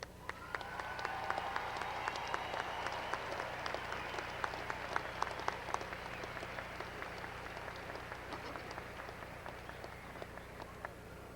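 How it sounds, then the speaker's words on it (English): A large audience applauds graduates at a university commencement, a continuous, fairly distant wash of clapping with occasional sharper claps, steady for the whole stretch. "Please join me in applauding all of the graduates."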